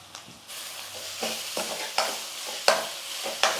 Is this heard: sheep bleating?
no